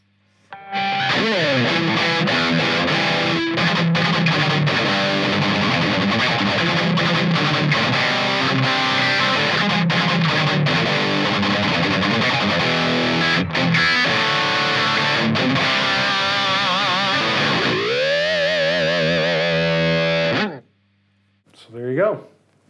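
Heavily distorted electric guitar plays through a miked guitar cabinet in a loud, continuous stretch of about twenty seconds, then cuts off before one brief final burst.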